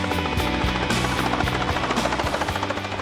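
A helicopter used for darting rhinos during a dehorning operation drones close and loud, its rotor blades beating in a steady rapid rhythm throughout.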